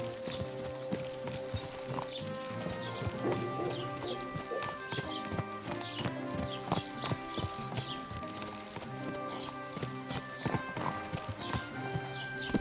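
Horse hooves clip-clop steadily in the video game Kingdom Come Deliverance II, a rhythmic trotting beat over a bed of game music, with a short whinny along the way.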